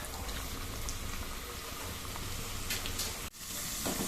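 Potatoes frying in a pan for aloo baingan, a steady dense sizzle and crackle of hot oil, close and continuous throughout.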